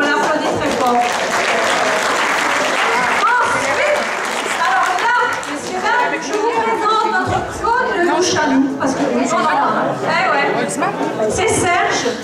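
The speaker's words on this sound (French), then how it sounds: "Et bien, franchement, bravo, on l'applaudit très fort." An audience at a dance demonstration applauds Gérard, loud close clapping that swells and tapers while people talk and chatter over it, with brief dips in between.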